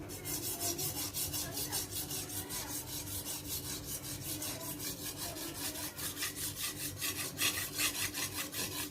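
Steady rhythmic rasping strokes of thick rust being scraped and scrubbed off a machete blade, repeating continuously at a brisk pace, close and fairly loud with no talking.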